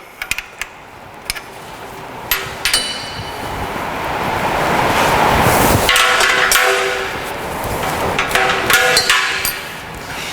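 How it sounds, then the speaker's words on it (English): A ratchet strap is released from a 200-litre drum on a pneumatic drum mixer's base plate, with a few sharp metallic clicks and clanks early on, then a louder, broad rushing clatter in the middle. "I'm going to remove my ratchet strap"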